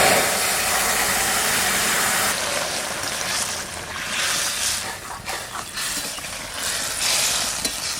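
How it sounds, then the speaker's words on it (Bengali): Vegetable curry of kochu loti and fish hits a hot pan of oil tempered with cumin and radhuni, setting off a loud, steady sizzle that hisses on for several seconds with small stirring scrapes mixed in. "এবার তরকারিটা ঢেলে দিচ্ছি।"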